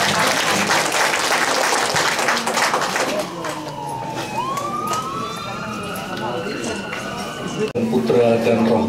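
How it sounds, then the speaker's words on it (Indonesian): A gathering celebrating a priest's 26th ordination anniversary breaks into loud applause that tapers off after a few seconds, leaving a rising whistle-like tone and murmuring voices. "Tepuk tangan untuk Romo Adri"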